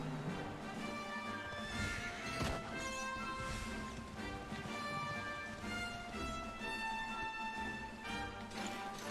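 A horse called with the horse hailer in Dragon Quest XI S neighs and whinnies loudly, with hoof clatter and a sharp crash over steady game music.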